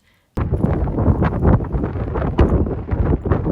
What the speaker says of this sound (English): I'm fighting the wind